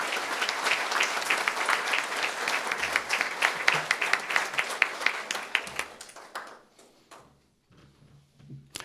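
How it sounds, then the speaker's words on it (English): An audience at a meeting applauds San Benito students and their teacher, dense clapping that holds steady for several seconds, then thins to a few scattered claps and fades to quiet. "So another huge round of applause for our San Benito students"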